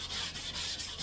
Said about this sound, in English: while you're sanding, and see, I'm not going straight across, I'm going on a cross hatch